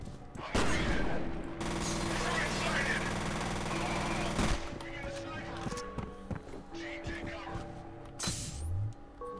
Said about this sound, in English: I'm gonna swap this weapon with the machine gun.